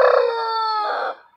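A rooster gives one loud, close crow lasting about a second, a sustained harmonic call that rises and then trails off, heard alone with no talking.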